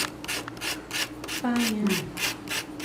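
Charcoal scraped back and forth against sandpaper in a series of regular, close rubbing strokes, with a brief faint tonal squeak partway through.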